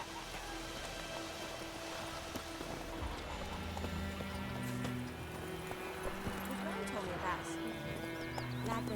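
Horse galloping in The Witcher, rhythmic hoofbeats clip-clopping under falling rain, with a whinny and someone talking over the top.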